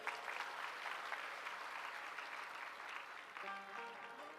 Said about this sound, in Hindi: तीनों के लिए तालियां बजाओ पहले।